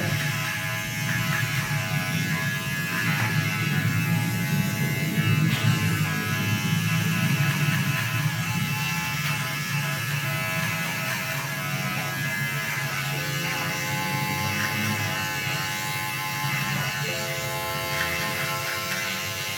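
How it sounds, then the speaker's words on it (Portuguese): An electric hair clipper buzzes steadily and loudly up close, its back edge run lightly over the hair while blending a fade haircut, a continuous motor drone with slight shifts in pitch as it moves. "você vai vir com a maquininha usando as costas dela"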